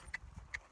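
A gaited horse's hooves strike the ground at a canter during training: two sharp, faint clip-clops about half a second apart over soft low rumble.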